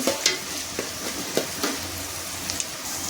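Masala for prawn curry frying in oil, giving a constant bright sizzle with occasional sharp scrapes and taps of a spoon stirring in the pan, close and with no voices.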